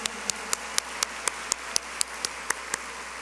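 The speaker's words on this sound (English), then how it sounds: "Please join me in a round of applause as we thank them all for their leadership." At a 2017 high school graduation ceremony, sharp, evenly spaced hand claps ring out at a steady rhythm over a soft bed of broader applause in a large room.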